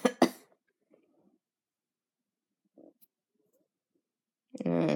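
A couple of quick close coughs at the start, followed by near silence with small faint noises, then a voice begins speaking at the end.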